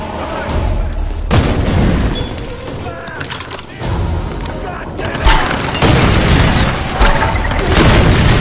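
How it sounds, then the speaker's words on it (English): In the Tomb Raider reboot video game, a grenade goes off with a heavy boom, followed by further blasts and gunfire in a loud battle while voices shout. "Grenade! Grenade! Get down here!"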